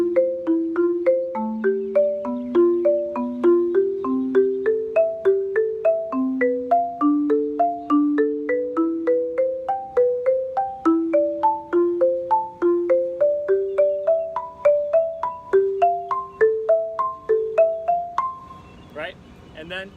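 Marimba playing a rising exercise pattern of bright struck notes, a steady even pulse of single mallet strikes climbing in pitch over twenty seconds, played alone without talk until a short trailing noise at the end.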